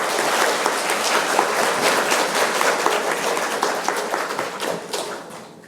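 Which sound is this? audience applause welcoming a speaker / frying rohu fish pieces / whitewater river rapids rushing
audience applause welcoming a speaker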